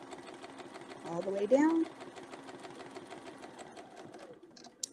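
Sewing machine stitching a shape guided along a ruler, a steady rapid needle rhythm running through the whole span, close by, with someone talking over it partway.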